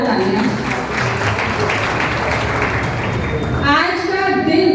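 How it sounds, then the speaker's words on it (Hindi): An audience at a Women's Day event claps in a dense, sustained wave that carries through the clip, and a voice starts speaking near the end. "तो इनके लिए भी एक बार जोरदार तालियां।"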